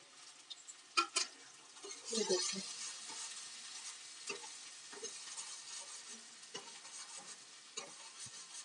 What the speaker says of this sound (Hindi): अभी हमारी प्याज भून रही है।